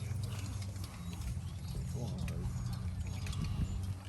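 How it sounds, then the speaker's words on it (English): Cavalry horses moving through broken, wooded rough terrain: faint hoof clops and creaking tack beneath a steady low rumble, with a voice talking over them. "The trooper behind is trying to put his horse's front hooves where the last horse just turned"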